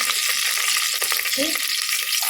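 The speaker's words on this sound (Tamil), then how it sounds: "வெங்காயம் நல்லா வதக்கிக்கலாம்" Onions sautéing in a pan after whole spices, curry leaves and chilies have been tempered, giving a loud, close, steady sizzle that carries a brief scrape and a faint voice.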